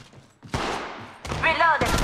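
Gunfire from a firefight in Apex Legends Mobile, arriving in loud bursts after a quiet start, with an in-game voice briefly heard over the shots.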